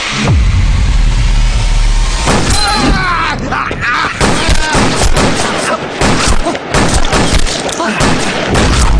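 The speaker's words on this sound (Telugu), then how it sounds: "ఎవరా షూట్ చేస్తున్నది ఎవరు కాల్చింది" Gunfire in an action scene from a Telugu gang movie, with loud rapid volleys of shots and sharp impacts over a running engine and a dense soundtrack.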